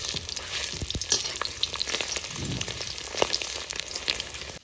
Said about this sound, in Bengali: এখন এই গোটা চর্বিটা কিন্তু থেকে তেল বেরোবে।